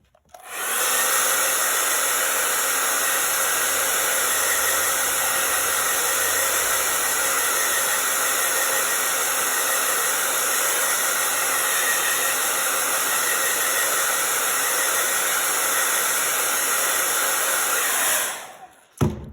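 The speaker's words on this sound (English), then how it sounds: "Okay, so I'm gonna just blow that dry quick." A hair dryer blows steadily on fresh paint on a sunflower truck painting, a loud, close, unbroken airy roar lasting nearly twenty seconds before clicking off.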